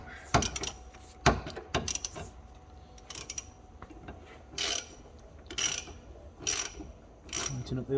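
A ratchet snugs down the oil filter while an Abarth 695 XSR is serviced, sending out several separate bursts of close clicking with short gaps between them and faint background noise.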